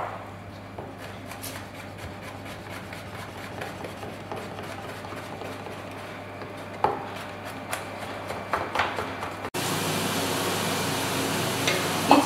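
A knife chops mushroom stems on a board for potato soup, with quiet, steady taps that grow louder and more distinct later. A steady hum runs underneath, and a brighter noise cuts in near the end.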